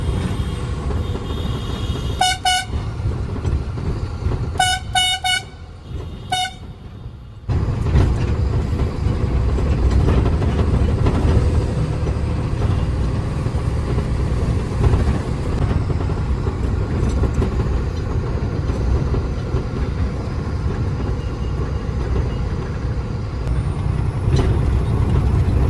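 A train passes a railway level crossing, known as the third gate, along a road toward Goa: several loud horn blasts come first, then a heavy, continuous rolling rumble of wagons close by, with no talk.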